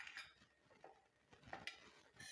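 A heavy-bottomed steel cooking pot is handled in a home kitchen, giving a few faint metallic clinks and knocks at close range against quiet background rustling.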